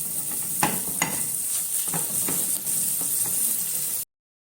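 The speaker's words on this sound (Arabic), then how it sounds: "هدي كده الثوم بس كده تشويحه لحد بس ما ريحته تطلع" Mashed garlic sautés in a pan, giving a steady close sizzle with repeated scraping stirs of a spoon every half second or so, then the sound cuts out abruptly.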